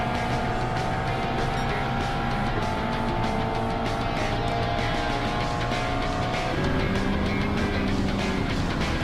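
Racing cars, including a Gran Turismo, run on a track in a racing video game: a dense, continuous engine roar with shifting revving tones and occasional tire squeal, loud and steady throughout.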